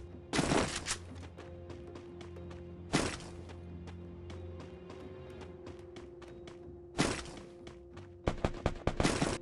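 A grenade launcher fires in the Free Fire mobile game: several sharp, bright bursts stand out against quieter ticking clicks and a low steady hum, with a tight cluster of closer hits near the end.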